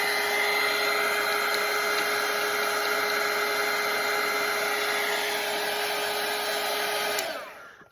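A hair dryer blows steadily to dry paint, a loud, even whir with a constant tone that runs for about seven seconds before shutting off and fading at the end.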